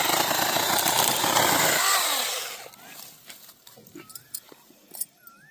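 A small new machine saw cutting down a large lemon tree on a farm, loud and close for the first two seconds, then cutting out into quieter rustling and scattered knocks, with brief voices and faint birdsong.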